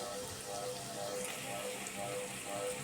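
Potato, runner beans and tomato frying in a pan with onion paste, garlic paste and green chillies, giving a steady, even sizzle that crackles softly and continuously throughout with no talking.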